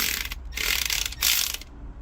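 An impact ratchet whirs in two short, loud buzzing bursts while loosening a cylinder head bolt on a Toyota Previa, Tarago or Estima engine, then it falls quiet.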